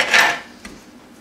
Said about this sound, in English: Chop off their head.